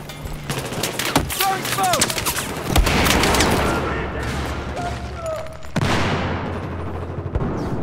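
Gunfire in Battlefield 4 on the Siege of Shanghai map in Rush mode, with dense rapid bursts, single shots and booms, near and distant, some whizzing effects, and players talking over the battle.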